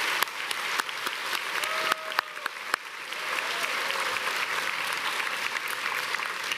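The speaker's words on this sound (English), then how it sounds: "So how about one more round of applause for all the great people on the stage here." Audience applause at a college spring convocation ceremony for faculty and staff on stage: steady, dense clapping from a large crowd throughout, with a few sharper claps near the start.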